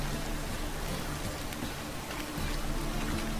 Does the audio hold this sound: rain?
yes